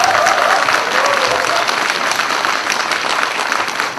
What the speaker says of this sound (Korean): 그러니까 노정현 씨한테 다시 한번 감사의 박수